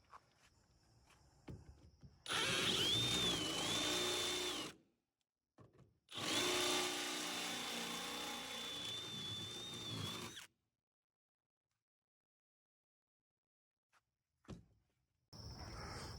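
A power drill with a step bit bores holes in a truck bed box, giving two loud sustained whirring bursts of a few seconds each, close by, separated by silence, then a brief third burst starting at the end.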